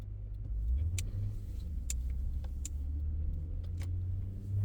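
A car engine idles after being started early on a cold Canadian day, a steady low rumble close by with a few faint clicks and rattles on top.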